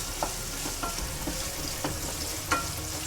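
Sliced onion fries in hot oil with salt until golden brown, giving a steady close sizzle broken by a few sharp spatula clicks and scrapes, with no voices.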